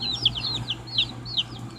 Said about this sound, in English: There's my big chicken.